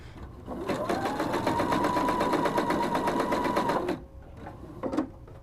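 A sewing machine stitches down the folded edge of a fabric scarf in one steady, fast run of close rhythmic needle clatter lasting a few seconds, then stops, followed by a soft handling knock; no talk.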